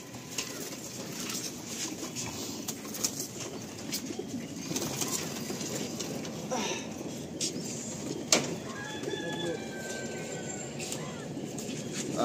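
Madrasi pigeons cooing in a loft, soft low repeated coos under steady background noise, with occasional faint clicks and distant sounds.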